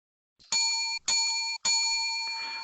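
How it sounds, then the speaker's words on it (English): A new desk bell rung three times on a sports podcast, three bright sustained rings with short gaps between them, close and loud with no talk over them. "I hope the people are liking the new bell"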